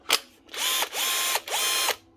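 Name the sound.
Bosch GSB18-2Li 18 volt drill running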